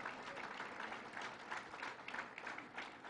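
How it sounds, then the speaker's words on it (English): Crowd applause at a New York State Fair announcement, a sustained, even patter of many hands clapping, heard from some distance and fairly faint. "Let's give a big round of applause to our Kendu County Executive,"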